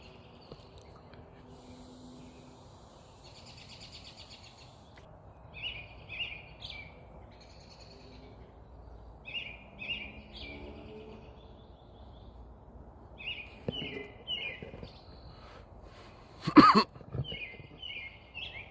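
Birds chirping in the woods beside a stream, several clear tweets and short call phrases repeating at moderate distance over a quiet hiss of running water, with no talking.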